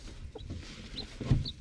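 A broody hen that has hatched a chick gives a few soft, close clucks and low grunting calls from her nest, with quiet farm ambience and no talk.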